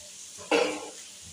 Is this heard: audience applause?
no